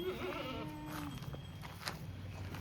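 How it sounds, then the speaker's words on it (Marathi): Kathiawari goats bleat faintly in a pen, one wavering call at the start followed by softer scattered bleats over a low, steady background murmur. "हे बघा शेळ्या"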